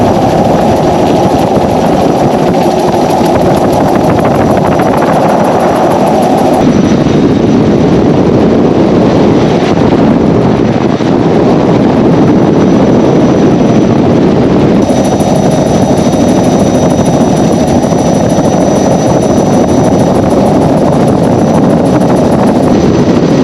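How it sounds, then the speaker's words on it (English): Helicopter cabin noise during a ride over the Gibb River Road region, a loud continuous rotor and engine roar with shifting tone partway through, heard from inside with no talking. "So here we are again in another helicopter ride."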